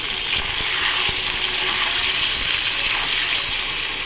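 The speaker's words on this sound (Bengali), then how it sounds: "ভালো করে এপিট করে ভেজে নেবো।" Paneer frying in oil in a pan, a loud continuous close sizzle with faint scraping and stirring underneath and no talking.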